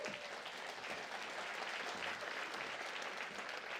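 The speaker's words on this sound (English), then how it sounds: "Give yourselves a round of applause" Faint, steady applause from a hospitality-industry audience at the NHO Reiseliv annual conference in 2019, a continuous wash of many hands heard from a distance.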